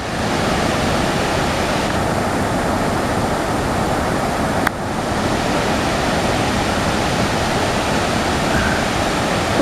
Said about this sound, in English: It's Mist Falls.